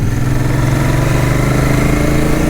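An old Royal Enfield Continental GT motorcycle, upgraded with a stage 1 motor, thrums steadily and loudly while being ridden along country roads.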